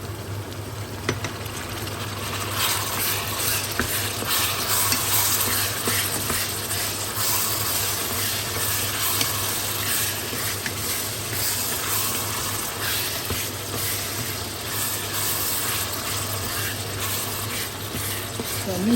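Beef with onions and carrots simmers in a pot for a beef and mushroom goulash, giving a steady, moderately loud bubbling sizzle that runs continuously with no voice over it.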